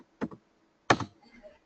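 A computer keyboard gives two short bursts of typing, a couple of quick taps and then a slightly longer cluster, close and clear in a quiet room.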